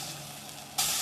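Homemade french fries sizzle in hot frying oil with a soft, continuous hiss that jumps to a louder, brighter burst of crackling near the end.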